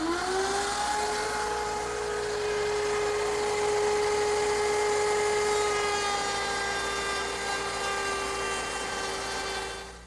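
A router table fitted with a half-inch cove bit raised just above the table runs as a loud, steady, high-pitched motor whine while it cuts wood, holding constant for the whole stretch with no talking.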